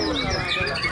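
A white-rumped shama sings at a bird-song contest; a short burst of bright, quick whistled notes sounds close, with a voice over it.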